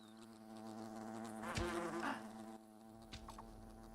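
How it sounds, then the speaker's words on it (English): Wasps attacking a picnic area in the video game Fable make a close, droning insect buzz that rises and bends in pitch, with a few faint game effects around it. "Wasps are attacking the picnic area."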